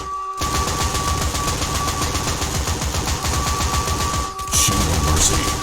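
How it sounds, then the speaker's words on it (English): Rapid automatic shotgun blasts and napalm launcher fire from the Postal video game, a dense, continuous barrage that briefly cuts out near the end and then resumes with a louder burst of flames and explosions. "my personal favorite weapons to use were the automatic shotgun and the napalm launcher. I mean, look at these things in action."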